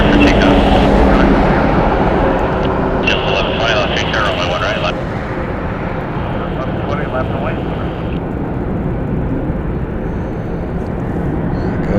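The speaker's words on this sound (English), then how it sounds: "There goes our Allegiant flight." An Allegiant airliner takes off at the Las Vegas airport with a loud, steady jet engine roar that fills the whole stretch, while people talk over it.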